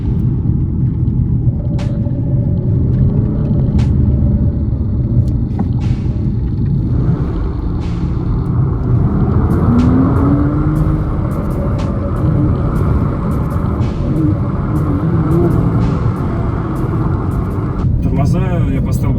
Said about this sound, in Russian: Выхлоп в салоне тоже прикольно.